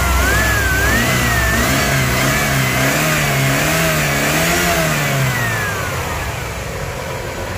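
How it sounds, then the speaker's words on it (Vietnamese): A 1998 Toyota Camry with an imported 2.2-litre engine runs steadily nearby, with a smooth, even hum and one gentle rev that rises and then settles back to idle, heard alone without talk. "máy khá là êm nha"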